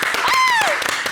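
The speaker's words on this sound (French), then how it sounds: "On peut applaudir pour P-Square." Studio audience applause on a French-language talk show for the Nigerian duo P-Square: a short, dense burst of clapping with a sliding, whistle-like tone rising and falling over it.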